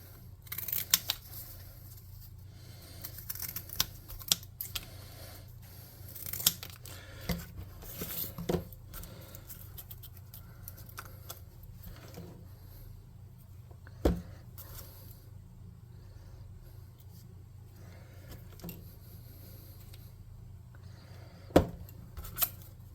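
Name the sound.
scissors cutting cardboard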